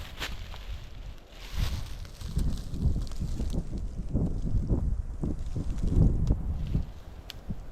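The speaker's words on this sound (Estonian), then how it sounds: "Tuuline on täna, ma ei saa aru, kummalt poolt see tuul on." Gusty wind buffets the microphone outdoors on a blustery day at Hundimägi hill near Hundisaare, a steady low rumble with rustling surges and no voices.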